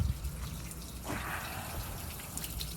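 Water runs steadily and fairly quietly from a hose beside a boat's Mercarb-carbureted engine, a soft constant splashing trickle with no voices.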